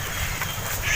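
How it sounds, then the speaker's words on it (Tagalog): Ducks quack amid roosters and chickens kept by a rural household in Siruma, Camarines Sur, blending into a steady, moderately loud outdoor murmur of fowl with no clear individual calls standing out. "May pato."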